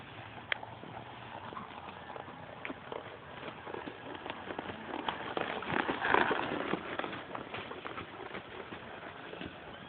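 A large horse gelding's hooves clip-clop on the ground in an uneven rhythm of faint, close thuds, building a little mid-way, with a low ambient background and a voice speaking only briefly.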